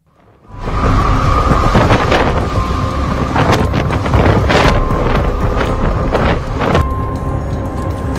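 Typhoon Yagi's storm wind roars across Vietnam in a loud, continuous rush with gusty buffeting, punctuated by sharp cracks and bangs.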